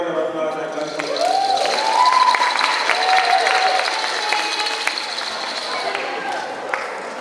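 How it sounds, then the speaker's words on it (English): An audience at a poet laureate event claps in a sustained, even round of applause, with crowd murmur and a brief rising whistle-like tone mixed in. "let's give them a round of applause"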